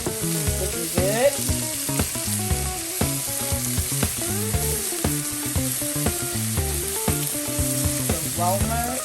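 Vegetables for a quiche filling sauté in a pan, a steady soft sizzle running underneath prominent rhythmic music that largely covers it.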